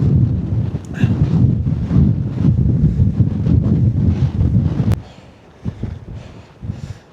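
Strong wind gusting along a trail on the Pacific Crest Trail, loud, steady buffeting roar against the microphone for about five seconds, then dropping to quieter, intermittent gusts.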